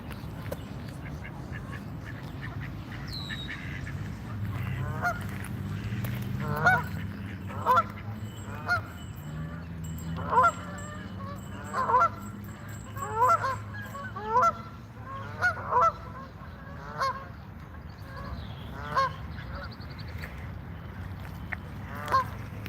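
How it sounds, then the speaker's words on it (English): Geese honk repeatedly at a duck pond in Washington, DC, with a dozen or so moderately distant, rhythmic calls over a low steady hum, and some ducks mixed in. "Geese are the ones making all the noise now."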